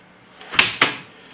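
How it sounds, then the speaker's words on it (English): The doors of a Philips Perfect Draft home beer machine are pushed shut: two quick sharp clicks about a quarter second apart, close and fairly loud over a faint background hiss. "Shut the doors."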